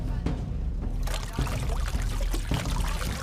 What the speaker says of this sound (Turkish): Yusuf o kadar hızlı döktü ki Ünlüler takımının su haznesinin fanusu yamuldu